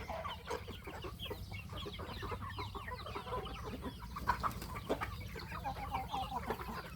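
Five-month-old Burmese chickens cluck and murmur steadily on a farm, a busy layered chorus of soft calls from several birds at moderate distance, with no talking.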